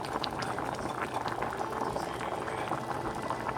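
Chana dal and softened tomatoes boil in a pot, a continuous dense bubbling close up with no pauses.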